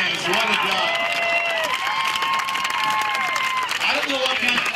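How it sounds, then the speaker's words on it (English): Crowd cheering and clapping at a county fair figure 8 trailer race, a busy outdoor roar with a loudspeaker announcer talking over it throughout. "Applause for the 99, Mike Williams."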